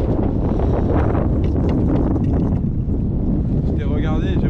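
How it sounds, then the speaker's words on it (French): Strong wind buffeting a sailboat, a loud continuous roar and rumble against the microphone throughout, with a person speaking over it. "Oh là là, il y a du vent, hein."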